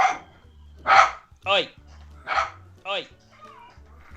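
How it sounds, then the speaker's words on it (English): A dog barks four times in quick succession, close and loud, with a person's voice mixed in between the barks. "We have dog friend."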